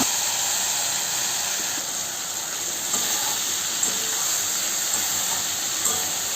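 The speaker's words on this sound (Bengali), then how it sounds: "এবারে আমি তেলের মধ্যে মাছগুলোকে দিয়ে দেব।" Whole lote fish dropped into hot mustard oil with whole chillies, cumin and garam masala sizzle loudly and continuously, a close, steady frying hiss with a few faint clicks and pops.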